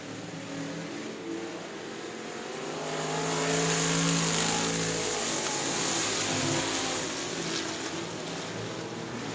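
Race cars roar around a racetrack with a steady, loud engine drone that builds as the field accelerates and passes, then eases slightly, with no talking.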